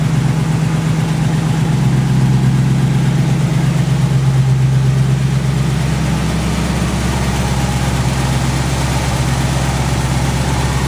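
A 1967 Pontiac Firebird with a 326 engine idles steadily after a cold start, a loud, continuous low rumble with a slight shift in pitch midway, heard alone at close range.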